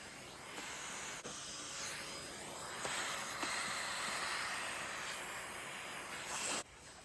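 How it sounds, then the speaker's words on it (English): A continuous loud hissing whoosh of a garage vacuum cleaner sucking up metal drilling swarf runs steadily nearby, with faint rattles of debris, then cuts off near the end. "I use my garage vacuum cleaner to suck up all the swarf"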